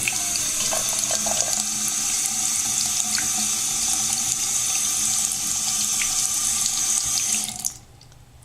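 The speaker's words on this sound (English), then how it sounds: "just fill the rest of the jar with water" Tap water runs steadily into a jar in a sink, a continuous close splashing rush that lasts about seven and a half seconds before cutting off abruptly, leaving near silence.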